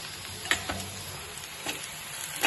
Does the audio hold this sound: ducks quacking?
no